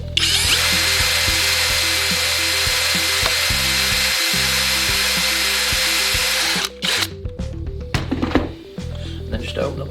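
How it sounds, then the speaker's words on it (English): A 4mm bit in a power drill whirs steadily as it bores into an aluminium bifold door frame, with the motor speed stepping up and down, then stops and gives way to clicks and handling noises. "I'll go through with my 4mm drill first in the place that I put it in"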